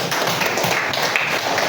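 A classroom of students claps hands together, a dense, continuous patter of close claps that runs steadily for under two seconds.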